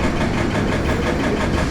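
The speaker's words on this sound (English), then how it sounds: "Can you hear that engine? What a lovely sound thumping away." A boat engine thumps away on a canal near a towpath, a steady, loud, continuous low chugging rumble with no voices.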